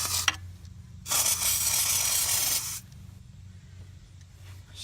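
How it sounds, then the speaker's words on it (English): An aerosol can sprays into the cylinder walls of a 2001 Acura TL 3.2-litre engine during a head gasket job, one steady close hiss lasting about a second and a half over a low background hum. "you're just going to spray inside the cylinder walls"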